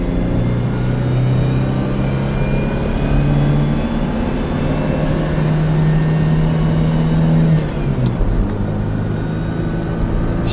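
A 2001 GMC Sonoma with a replacement 2.2L engine revs up through its RPM range, a loud continuous drone that climbs and holds, then drops near the end of the run.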